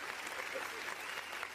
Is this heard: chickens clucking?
no